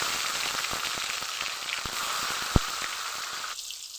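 Chopped tomato pieces with a bay leaf and whole spices sizzle in hot oil in a kadai, a steady close crackle with scattered pops and one sharp spit, easing off near the end.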